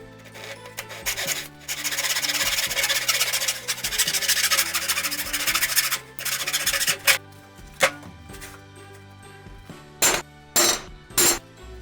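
A handsaw cuts the top three inches off a wooden board for a Christmas village display stand, with steady rasping strokes for about six seconds, then a few short separate strokes near the end.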